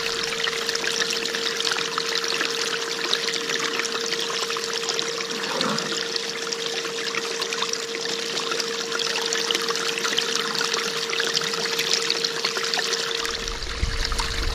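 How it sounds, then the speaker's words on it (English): Water with clay paydirt running through a sluice, a steady close trickling and splashing flow with a constant motor hum underneath throughout. "I ran the last bit of clay Paydirt through the sluice now."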